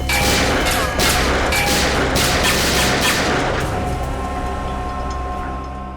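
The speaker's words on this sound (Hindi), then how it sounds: "क्यों फिजूल में कानून की गोलियां बर्बाद कर रहे हो" In a CID police crime drama, a dense, continuous volley of gunfire roars at close range for several seconds, with sharp repeated cracks that slowly fade near the end.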